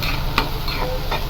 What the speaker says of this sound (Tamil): நல்லா கோல்டன் ப்ரௌனாக வர வரைக்கும் நம்ம நல்லா ஃப்ரை பண்ணிக்கலாம்